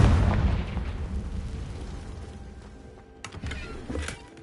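A Confringo blasting spell in Hogwarts Legacy bursts with a loud, close boom that rumbles and fades over a couple of seconds, followed by a few smaller crackling pops.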